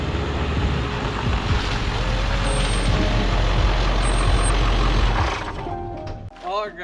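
Ford F-550 XLT with a 7.3L Powerstroke diesel idling close by, a steady deep rumble that runs unbroken before cutting away at the end to a brief voice.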